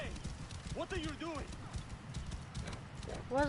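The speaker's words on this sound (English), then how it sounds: "I'm running on a horse." Horse hooves clip-clopping at a gallop in Assassin's Creed Origins, with a whinny and game sounds, under someone talking.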